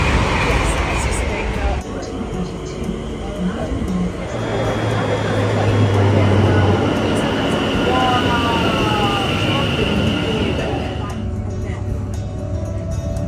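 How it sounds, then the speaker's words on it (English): Ride on a train from Watford Junction into London Euston: loud, steady rumble and rattle of the moving carriage with shifting wheel tones, and people talking over it throughout. "we are going to get the train into London Euston"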